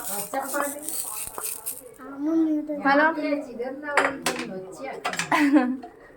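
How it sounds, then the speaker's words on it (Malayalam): A spoon or spatula stirring food in a cooking pot, giving a series of close metallic scrapes and clinks in irregular bursts, while children talk over the clatter. "ഇതാ ഇനി നമ്മളൊന്ന് ഇളക്കി കൊടുക്കണം."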